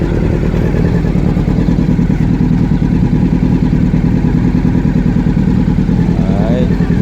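An overhauled Honda CBR750 motorcycle engine runs steadily up close with a loud, continuous mid-range drone and no clear revving, while a voice talks over it.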